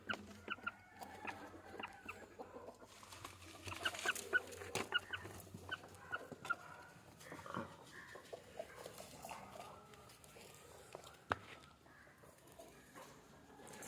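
Free-range country chickens cluck and squawk in and around a coop in the morning, giving irregular bursts of close, sharp calls with soft rustling between them.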